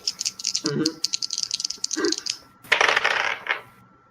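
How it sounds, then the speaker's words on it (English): Dice clatter and rattle across a hard table surface during a tabletop role-playing game, in a few quick bursts of small clicking impacts with a louder tumbling rattle near the end. "I just fucking rolled the dice, man."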